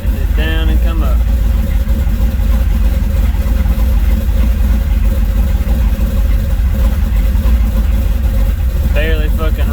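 Supercharged LSA 5.3 V8 in a C10 truck idling rough and hunting, a loud, steady low rumble that holds close throughout with no talk, faint rising whistles briefly near the start and end.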